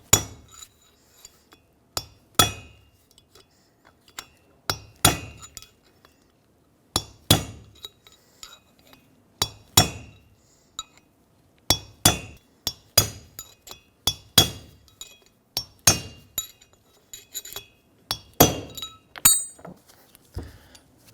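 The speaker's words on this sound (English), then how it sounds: "I'm going to take a punch and a hammer and just go around the whole perimeter and evenly punch this race" A hammer drives a punch against a rear outer wheel bearing race in the hub of a 2007-2014 Chevrolet Silverado 2500 HD, giving sharp metallic clinks in uneven bursts of one to four blows with short pauses between them, close and loud, with no talking.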